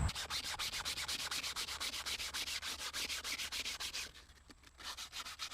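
Steady rhythmic rubbing strokes of wet sanding a car wheel, repeated back and forth at a regular pace, close and fairly loud, pausing briefly near the end.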